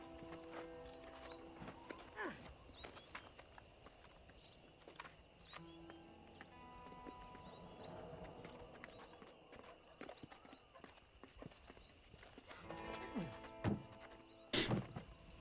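Horse hooves clip-clop in Red Dead Redemption on PS3, with uneven hoofbeats and a brief whinny over faint background ambience. A sharp louder burst comes near the end.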